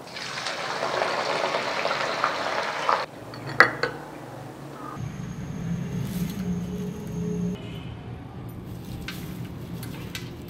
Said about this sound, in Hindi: फिर हम फ्राई करने लगे हैं।